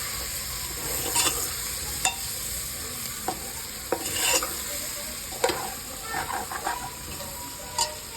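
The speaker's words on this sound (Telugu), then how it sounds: "కుక్కర్లో వేసి మంచిగా దగ్గరగా కలుపుకోవాలి" Boti curry stirred with oil in a pressure cooker, a steady frying sizzle broken by repeated scraping strokes and knocks of a spoon against the metal, close and fairly loud.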